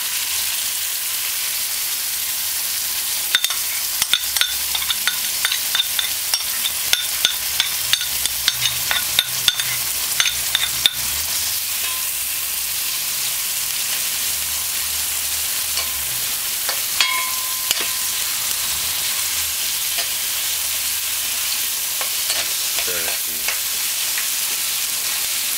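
Seasoning fries in hot oil in a pot for a cabbage and saltfish dish, a steady close sizzle with scattered crackles and pops throughout, no voices.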